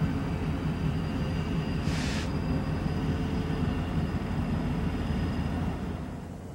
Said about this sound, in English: I'm looking westbound. Another train.